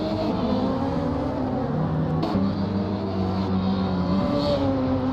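A Radical race car lapping Dover Raceway, its engine droning steadily with shifting pitch as it accelerates and changes gear, continuous and fairly loud with no talk.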